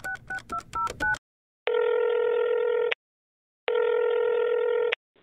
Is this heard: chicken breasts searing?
no